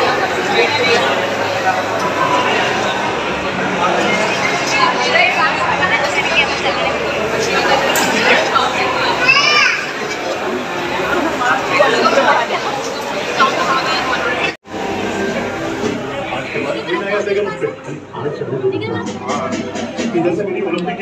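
A busy cinema crowd fills the space with dense, steady chatter and overlapping voices, near and loud, with a brief dropout midway before the babble resumes.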